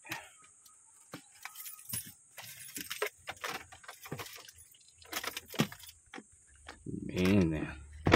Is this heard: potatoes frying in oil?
no